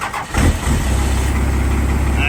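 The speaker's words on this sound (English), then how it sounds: "The coldest of starts. Yeah, Cummins is just gonna go." A Cummins diesel cold-starts in a junkyard beside a rotten 1959 Chrysler Windsor, a brief cranking burst catching at once and settling into a loud, steady idle close by.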